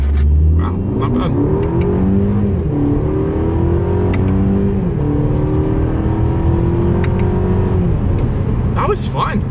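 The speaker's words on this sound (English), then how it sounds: "That's a heck of an acceleration." A 2026 Mercedes-Benz CLE 300 in sport driving mode accelerating hard on a straightaway, its engine note loud and close, climbing through gears with brief dips at each shift, and a voice speaking over it.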